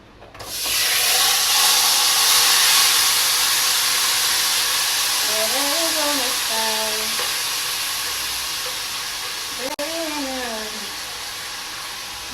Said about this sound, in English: So now we're gonna add our chicken.